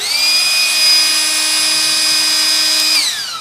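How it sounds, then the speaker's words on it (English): A Ryobi High Volume Power Inflator air blower runs at a steady, loud, high-pitched motor whine with a whirring airflow, holding constant before spinning down slightly at the end. "it's a small, useful air blower, great for blowing off dust off of workplaces"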